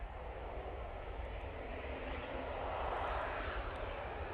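A propeller airplane lands at Manchester Airport, a continuous broad engine roar heard from a distance, swelling slightly toward the end, with no voices.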